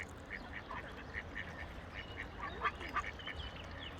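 Ducks or similar waterfowl quack in scattered short calls at a riverside while being fed, the calls fairly faint over a steady low outdoor rumble.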